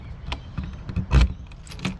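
Keys jangling inside a caravan, a few short bright metallic rattles and clinks with a louder burst in the middle, close by and alone.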